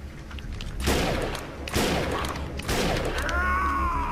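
Submachine gun rapid fire in the free-to-play PS4 MMO shooter Defiance 2050: three loud, close bursts of automatic fire about a second apart, then a fading ringing tone.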